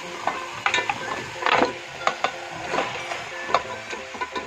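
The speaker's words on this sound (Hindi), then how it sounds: "मटन को अपने हम मसाले में अच्छे से 2 मिनट के लिए भुनेंगे" Goat mutton frying in masala in a pot, with repeated stirring scrapes and clacks over a soft sizzle, close and moderately quiet, with no talk.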